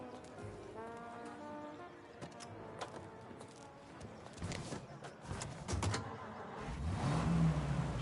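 A car engine drives along in Mafia Definitive Edition, steady and moderate at first with a faint tonal hum and light clattering, then swelling into a louder, closer revving surge toward the end.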